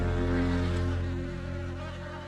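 Bees buzz steadily, close and continuous, with a low droning hum that fades slightly over a couple of seconds.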